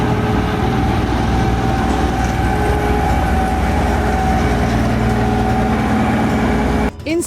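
A train fitted with a massive snowplow pushes through snow on tracks in Norway, a loud continuous engine drone with steady low rumble throughout, cutting off abruptly near the end.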